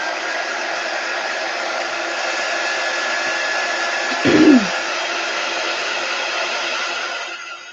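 A handheld hair dryer blows steadily and loudly to dry chalk paste on a wooden tray, a constant close whoosh with a brief bump in the middle.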